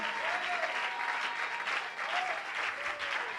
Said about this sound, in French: Une bonne acclamation pour lui